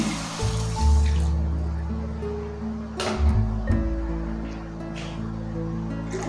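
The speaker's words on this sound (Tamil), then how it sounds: "கொஞ்சம் தண்ணி சேர்த்துக்காங்க." Water pours in a steady stream into a pan of paruppu urundai kuzhambu, close and moderately loud, with a low hum in the background.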